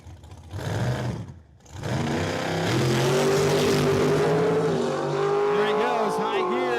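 A 1960 Chevrolet Impala drag races down the strip at a dragway, its engine roaring loud and close and climbing through the gears, with a brief dip before high gear and a commentator talking over it.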